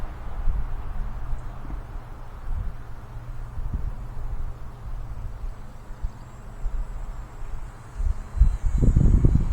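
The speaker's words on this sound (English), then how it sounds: "Ooh, windy, windy." Strong gusting wind buffets the microphone at an outdoor RC plane flying field, a rumbling, uneven roar that swells and surges louder toward the end, with no voices.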